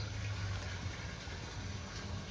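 Water gushing and overflowing from PVC pipes driven hard by a Sunsun 16000 pump, a constant loud splashing rush with a low churning roar and no pauses.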